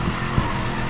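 A car drifting in Need For Speed Payback, with tires skidding and squealing over a steady engine roar. The sound is loud, close and continuous, with brief surges in the squeal.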